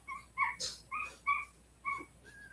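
A young puppy's high, thin whimpers and yelps, repeated about seven times in a steady rhythm, close and fairly quiet.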